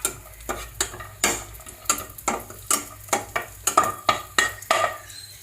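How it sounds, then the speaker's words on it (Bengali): Cashews and raisins frying in a pan for a fried rice, with regular rhythmic scraping and clattering stirs of a spatula over a soft background sizzle, close and fairly loud, about two strokes per second. "কাজু আর কিশমিশ 1 মিনিট মতো ভেজে তুলে রাখবো"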